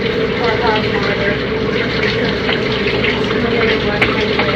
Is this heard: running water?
yes